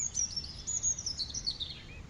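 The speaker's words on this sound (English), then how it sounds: "You hear birdsong from a nearby tree, and you look up into the branches." High, sweet birdsong carries from a nearby tree in spring, a quick run of bright chirps and whistled notes above a soft, low outdoor hum.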